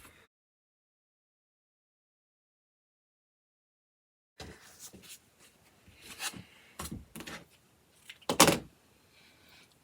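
Quilt fabric squares are cut on the diagonal. After a silent stretch, close scraping and rubbing cutter strokes come in irregular bursts, with a few louder sharp swipes near the end.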